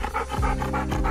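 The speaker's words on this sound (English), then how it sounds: "They cool themselves down by panting like that." A Belgian Malinois dog panting loudly and close, rapid breathy huffs in a steady rhythm with no other sounds.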